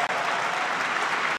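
Dense, continuous clapping fills the moment before cutting off abruptly; it sounds more like a crowd's applause than just a pair of hands.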